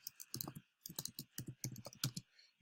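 Computer keyboard typing, a close run of quick, irregular key clicks in short bursts with brief pauses between them.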